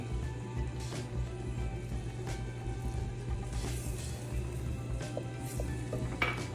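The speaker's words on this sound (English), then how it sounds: "add your Parmesan cheese and stir" Parmesan cheese being stirred into Alfredo sauce in a pan, a low steady simmer under soft scraping and a few light utensil clinks against the pan.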